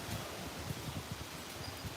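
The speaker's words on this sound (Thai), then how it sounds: "วันนี้ลมแรงมากเลยครับ" Strong wind gusts through leaves at a temple in Roi Et province, Thailand, a steady, fairly faint rustle and low rumbling wind noise filling the whole stretch without any voices.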